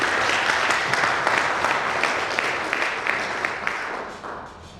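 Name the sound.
audience applause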